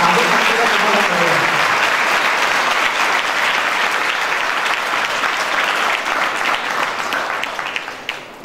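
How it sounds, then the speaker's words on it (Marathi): Loud, dense applause from a seminar audience clapping for themselves, continuous for several seconds before thinning and tapering off at the end. "म्हणून आता स्वतःसाठी जोरात टाळ्या वाजवा"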